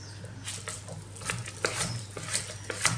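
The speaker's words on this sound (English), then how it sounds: "and then mix again with the spoon" Spoon stirring a spinach bean dip in a bowl, soft irregular scraping and wet patting strokes at close range over a low steady hum, with no voices.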